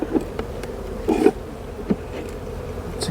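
Honeybees hum steadily at an open beehive during a spring frame inspection, a close, continuous drone with occasional louder buzzing passes and light handling clicks.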